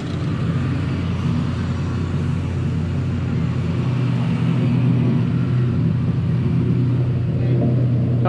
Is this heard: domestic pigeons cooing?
no